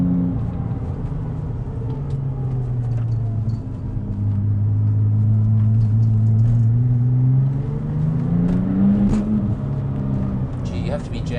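A 2001 Porsche 911 Turbo 996 with twin turbos drives on light throttle, its deep engine drone swelling and easing with a soft burble from the exhaust, steady and close from inside the car.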